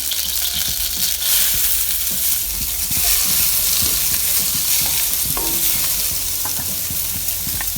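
Cardamom, cinnamon, ginger, garlic and onion frying in oil for a tin fish cutlet mix, a loud, dense sizzle with constant stirring and scraping close up.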